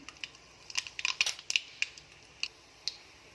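Mustard seeds crackling in hot oil in a kadhai, a scattered run of sharp little pops and ticks, busiest early and then thinning to sparse isolated snaps, fairly faint and close.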